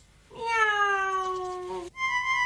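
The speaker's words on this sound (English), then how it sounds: "Meow." Cartoon cat in a 1997 Dingo Pictures animation of the Town Musicians of Bremen, giving one clear, drawn-out meow that bends downward, followed by a short higher tone.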